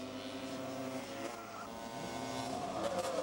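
Racing quad bikes at a motorsport bike meeting, engines whining and revving together in a close, busy blur of motor noise, with faint tyre scrabble and no one talking.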